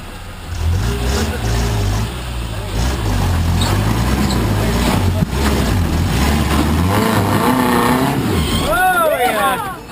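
Off-road vehicle engine labouring in low gear as it climbs over rocks near a waterfall, a steady close rumble running throughout under excited shouting voices.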